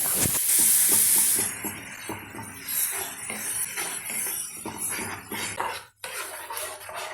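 Milk is poured little by little into a butter and flour white sauce for lasagna and stirred, producing repeated spoon scrapes and clinks against the pan over a soft sizzle, close and busy throughout.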